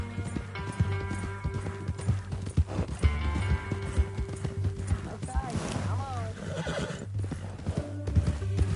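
Hooves clip-clop steadily while a horse neighs loudly partway through, set against game music, with someone speaking briefly, in Red Dead Redemption 2.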